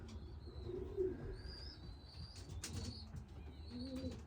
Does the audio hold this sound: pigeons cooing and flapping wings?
yes